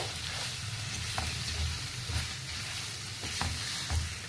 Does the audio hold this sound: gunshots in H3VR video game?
no